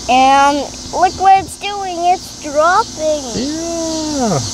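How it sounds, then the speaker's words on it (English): Cicadas drone loudly in outdoor trees, a continuous high-pitched buzz running under a child's and an adult's lively conversation throughout. "That's the sound of cicadas."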